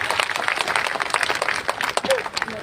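Applause from an audience at a party state executive meeting in a Lucknow office, a dense wash of clapping throughout with voices talking over it.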